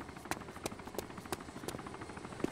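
A helicopter in DayZ Origins thumps with regular rotor beats, each blade pulse sharp and evenly spaced, loud and fairly close throughout.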